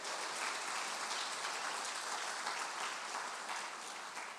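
A church congregation claps for the Lord during a sermon. The applause is sustained and fairly soft, with a steady wash of clapping and no speech.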